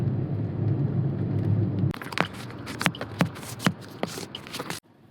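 A car driving on the road, with a steady low engine and road rumble for the first couple of seconds, then a brighter passage of sharp clicks and knocks before a sudden cutoff near the end.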